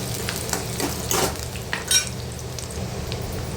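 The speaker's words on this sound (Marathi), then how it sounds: "एक छोटासा कांदा बारीक कट करून घेतला आहे तो टाकून घेते कांदा व्यवस्थित परतून घ्यायचा आहे" Finely chopped onion frying in a ladle of oil in a pan for a prawn curry, steady sizzle under a few scraping stirs from a spoon, close and moderately loud, no talking.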